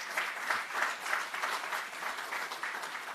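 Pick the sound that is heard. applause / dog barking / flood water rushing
applause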